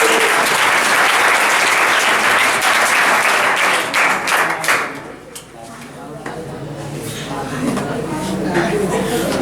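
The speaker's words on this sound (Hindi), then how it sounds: "जोरदार ताली होना चाहिए।" Loud applause from the audience at a school quiz event, dense rapid clapping that holds strong for several seconds, then thins out and drops lower before picking up slightly again.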